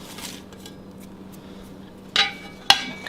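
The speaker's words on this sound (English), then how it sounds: "We're going to get this onion in the bowl." A chopped onion goes into a kitchen bowl, giving two sharp, close clacks in quick succession against a quiet background.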